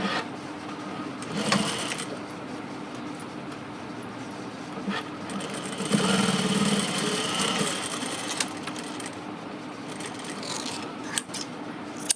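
Sewing machine stitching the folded seam of a new blouse hanging, a steady mechanical whir with low hum running through, swelling briefly in louder bursts with faint handling rustles in between, no talking.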